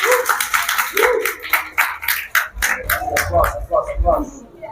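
A crowd gathered in a hotel claps in quick, uneven bursts, the sharp claps mixed with voices and cheering close by.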